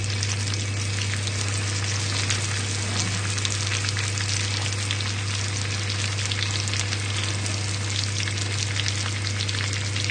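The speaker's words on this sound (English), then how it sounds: "all we need to do is just leave this to bubble" Butter and sugar bubbling in a pan for a pear tarte tatin, a loud, steady close sizzle and crackle of frying that runs unbroken throughout with a low hum beneath.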